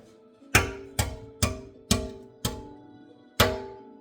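A boiled egg's shell is cracked against a hard surface, six sharp separate taps with the first five evenly spaced and the last after a short pause, close and clear with no talking.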